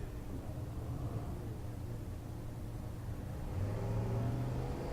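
Mustang Fastback with orange paint and a Chevy II idling and rumbling at the start line of a drag race in Ennis, Texas, a steady low engine drone that swells louder near the end.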